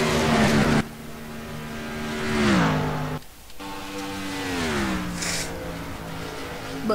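Race cars at speed on the Chicagoland oval in NASCAR Racing 2003, engines droning in steady high pitch that bends down and up as cars pass and shift, with a brief cut to near silence midway.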